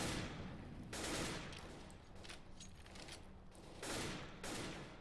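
Automatic rifle fire sprays a wall in a Counter-Strike match on the Inferno map, heard as a faint, continuous crackling barrage with a few louder bursts.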